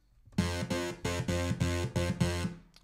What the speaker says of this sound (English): A very pleasing saw wave there.